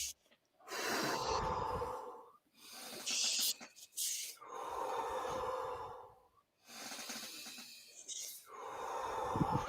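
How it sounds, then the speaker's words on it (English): Deep breathwork breathing in long, strong cycles, with loud rushing inhales and exhales separated by brief pauses, close and alone without talk. "few more breaths. Just keep breathing."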